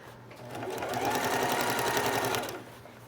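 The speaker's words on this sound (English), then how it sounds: "I'm going to top stitch this" A sewing machine top-stitches along a zipper on a tote bag, a steady close mechanical whir that ramps up, runs evenly for about two seconds, then slows and stops.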